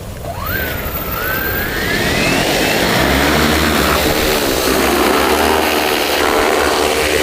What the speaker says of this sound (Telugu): మొత్తం డ్రోన్ అంతా కూడా సార్ మనం లైవ్ లో చూద్దామా ఎలా ఎగరేదో